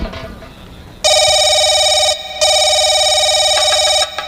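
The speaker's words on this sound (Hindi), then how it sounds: "सर फोन आ रहा है।" A telephone rings loudly and close by in two long electronic trills separated by a brief pause, and a third ring starts at the end.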